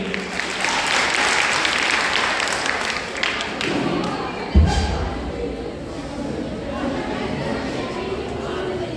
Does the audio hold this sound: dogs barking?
no